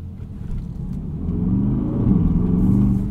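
Inside a 2024 Aston Martin DBX 707 SUV while driving, a low engine rumble builds steadily as the vehicle accelerates.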